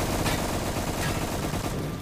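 Rapid gunfire from a Roblox shooter game, a dense continuous burst of shots filling the whole stretch at steady loudness with no talk.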